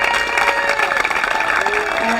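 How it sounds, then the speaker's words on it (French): An audience claps and murmurs at a pétanque Grand Prix prize ceremony, with dense, steady applause throughout and some crowd voices mixed in. "Donc j'aimerais tous que vous applaudissiez Monsieur Patrick Grignon qui a été avec nous."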